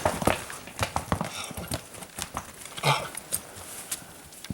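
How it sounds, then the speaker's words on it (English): Mules clip-clop along a mountain trail at Ross Lake, their hooves striking in an uneven rhythm up close, with no voices over them. "Those are some pretty mules. These are the mules."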